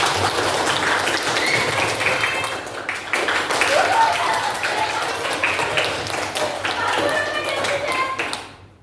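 A teacher and students in a classroom clap their hands at an accelerating pace, quick tapping claps layered with chatter and voices throughout, sometimes loud and close, before tapering off at the end.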